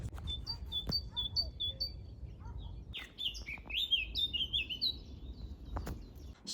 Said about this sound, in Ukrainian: Такий дуже приємний бонус цих прогулянок це спів пташок.